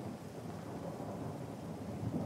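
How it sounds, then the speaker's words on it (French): Steady rain pours down with thunder rumbling low beneath it, a dense, even wash of sound that stays at a constant loudness throughout, with no voices heard. "Et la pluie tombe."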